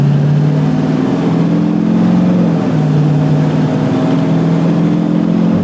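A Kodiak vehicle's engine runs loud and close in a continuous droning hum, its pitch shifting as the revs rise and dip.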